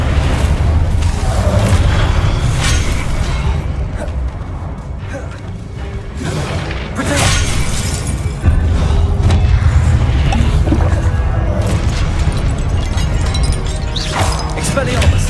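Booming spell blasts and crashes from Hogwarts Legacy combat, with the Incendio fire spell among repeated loud impacts, mixed over a dense game soundtrack while a voice shouts spell names.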